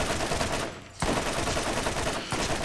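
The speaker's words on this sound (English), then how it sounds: "this machine gun still works out pretty well." Sustained machine gun fire in the video game Borderlands, a dense continuous rattle of rapid shots with a brief lull near the one-second mark, then another short dip before it resumes.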